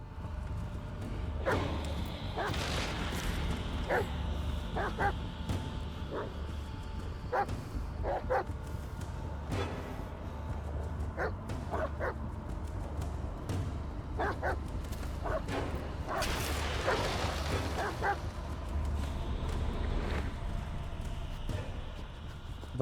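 Bullet the dog in Blair Witch barks and yips in sharp, scattered bursts, some single and some in quick clusters, over a low ambient rumble, sounding fairly close and moderately loud.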